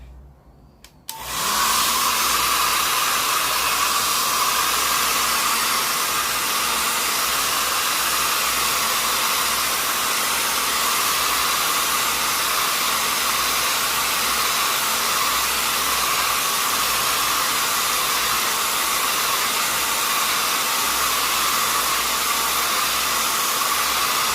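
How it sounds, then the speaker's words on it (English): Hair dryer switched on to dry a watercolor painting of a sphere, starting abruptly after a brief quiet moment and then blowing as a loud, steady, unbroken whoosh close by for the rest of the time. "I'm going to let that dry for a bit using my dryer."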